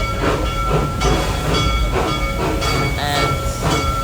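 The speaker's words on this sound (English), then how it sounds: "There's the train." A train rolls past at Busch Gardens theme park, a steady rumbling with rhythmic clatter and hiss running continuously and fairly loud, with faint background noise.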